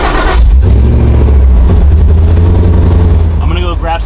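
A supercharged 1973 Ford F100 with custom exhaust fires up for the first time and revs, its loud, steady engine rumble running the whole way through, with a voice briefly heard near the end.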